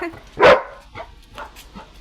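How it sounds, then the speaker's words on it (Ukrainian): A dog at the front door gives one loud, close bark as it is greeted, followed by a few softer yips and whimpers. "Пса звати Сімба."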